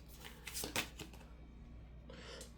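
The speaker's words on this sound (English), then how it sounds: "One more shuffle." A deck of playing cards being shuffled, a short riffle with a couple of quick ruffling bursts up close, then a brief softer flutter after a quiet gap, with no talking.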